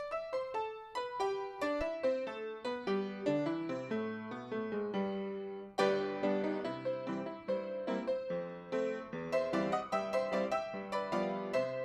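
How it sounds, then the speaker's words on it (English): Solo piano playing Scott Joplin's The Entertainer, a jaunty ragtime tune of crisp, syncopated notes over an oom-pah left hand, close and clear, with a brief pause before the phrase restarts. "It's called The Entertainer, and it sounds a little like this."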